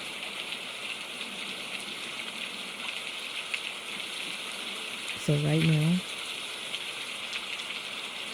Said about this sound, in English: the essence is listening to the rain